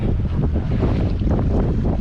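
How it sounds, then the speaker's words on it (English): A Stabicraft 2050 Supercab boat's engine roars steadily near full speed under heavy wind buffeting, with the rough thump and slap of the hull skipping across waves. "Running near full speed the whole way, just basically bouncing along the top of the waves."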